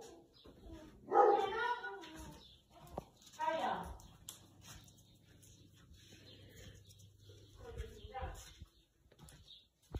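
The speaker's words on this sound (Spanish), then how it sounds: "La perra ha olido algo y ya está ladrando." A dog barks in a couple of short bursts early on at a rural farm property, then quieter sounds and faint Spanish voices follow, with some background hum.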